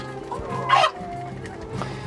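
Broody silkie hens cluck softly and steadily at close range, with one brief louder squawk partway through, and no voices are heard.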